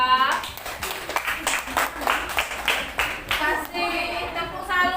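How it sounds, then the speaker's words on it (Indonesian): Students in a university classroom clap for a group that has just presented, with bursts of close, uneven hand claps mixed with children's and adults' voices talking and cheering over them. "Tepuk tangan dulu untuk kelompok 2."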